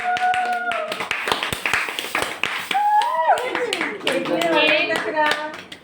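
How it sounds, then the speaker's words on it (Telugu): Family members clap their hands at a 25th wedding anniversary celebration, sharp rhythmic claps mixed with excited talking and children's voices close by. "చప్పట్లు చప్పట్లు. చప్పట్లు"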